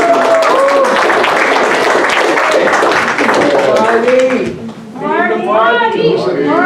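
A Community First Republican Club crowd in New York applauds and cheers for Senator Marty Golden, a dense clapping roar under loud overlapping voices and shouts.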